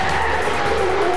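A car races at full speed through an intersection, producing a loud, continuous engine roar with a whining tone and rushing road noise that never lets up.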